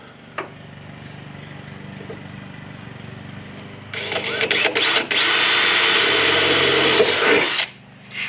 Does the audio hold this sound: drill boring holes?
yes